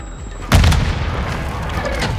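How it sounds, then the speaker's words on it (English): A grenade blast in Call of Duty Modern Warfare 2 team deathmatch lands as a single loud, close boom, followed by a sustained rumbling roar that trails off through the rest of the moment. "Grenade!"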